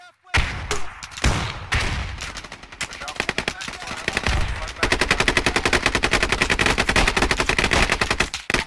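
Gunfire in the tactical shooter game Squad: loud, dense bursts of shots and scattered booms, then a long, steady machine-gun rattle of rapid, evenly spaced reports that runs to the end.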